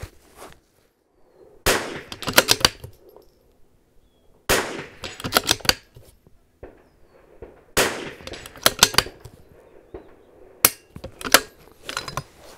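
Rifle shots at an outdoor shooting range, with Center X ammunition loaded in billet anodized 10-round magazines: four sharp, loud cracks spaced a few seconds apart, each followed by quick echoing pops and rattles, with quiet gaps between.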